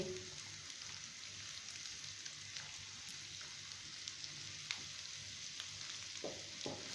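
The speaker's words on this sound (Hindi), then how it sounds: "दाल डाल के दाल को अच्छी तरह से रोस्ट कर लेंगे।" Chana dal roasting in melted ghee over medium to high heat for halwa, a steady soft sizzle and frying hiss with faint scattered stirring clicks throughout, no voices.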